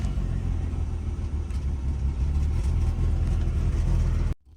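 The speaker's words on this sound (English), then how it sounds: "This ain't been started up in months, sounding a bit rough." The engine of a VW Golf R32 that has sat unused for months runs roughly with a loud, low, uneven rumble and fluctuating idle, then cuts off abruptly at the end.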